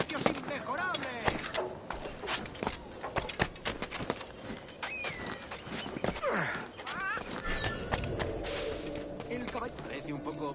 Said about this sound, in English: El caballo parece un poco peligroso.